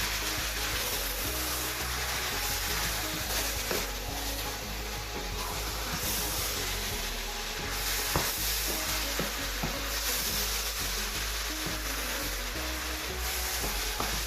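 Meat sauce sizzles steadily in a pan while being stirred, a continuous close frying hiss with soft scraping stir strokes throughout and no talking.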